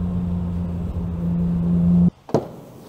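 BMW M5 engine droning steadily from inside the car while driving, a low sustained hum that cuts off abruptly near the end, followed by a brief thump and quiet.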